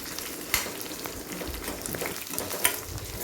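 Onions frying in a pan for banana stem chutney give off a steady low sizzle with an occasional stir-scrape, close up and fairly quiet, with no talking.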